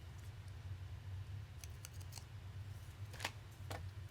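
Scissors snip the edge of glassine paper during a bag-making craft, giving several short crisp cuts in quick bursts over a quiet room hum, close to the microphone with no talking.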